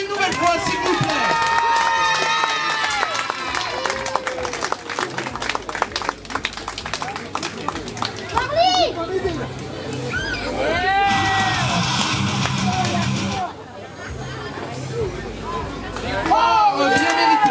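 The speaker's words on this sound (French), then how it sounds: "On peut les applaudir une nouvelle fois s'il vous plaît." An audience claps and cheers for the winning team at a wrestling show, crowd noise and yelling swelling and dipping, with an announcer speaking over it.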